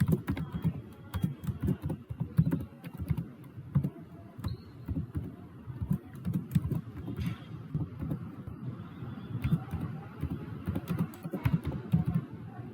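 Rapid, steady typing on a computer keyboard, close and clear, with uneven bursts of keystrokes continuing throughout.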